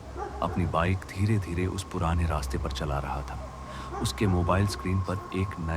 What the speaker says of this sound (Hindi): हवा में ठंडक थी और कहीं कहीं कुत्तों के भौंकने की आवाज गूंज रही थी।